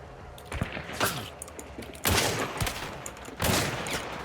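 Gunshots from a Nagant Officer Carbine Deadeye in a video game, compact-ammo carbine: three sharp, loud reports spaced about a second or more apart, with fainter shots and echoing tails between them.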